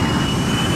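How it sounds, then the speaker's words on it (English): A heavy aircraft's engines roar steadily and loudly as it is throttled up on a landing approach, a dense continuous drone with no voices over it. "I gotta give her more throttle."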